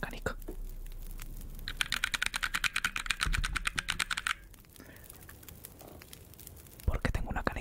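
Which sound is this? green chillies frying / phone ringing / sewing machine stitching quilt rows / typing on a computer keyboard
typing on a computer keyboard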